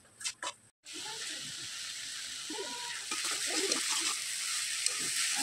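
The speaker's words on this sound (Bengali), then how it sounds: "তো শাকটাকে আমরা বেশ কিছু সময় ভেজে নিয়েছি" Water spinach (kalmi shak) fries in a pan with turmeric and salt, a quiet, steady sizzling hiss that starts after a couple of brief clinks and carries on evenly.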